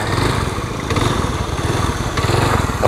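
A motorcycle engine running on a slippery, rain-wet road, a close, rough, pulsing mid-range drone with uneven throttle and no talking.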